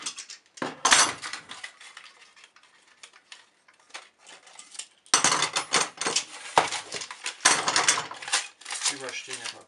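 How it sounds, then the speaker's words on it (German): Clamps being taken off a glued woodturning workpiece made with a paper joint, with bursts of metallic clanks and clicks between quieter pauses, close by. "jetzt können wir die Zwingen wieder abnehmen"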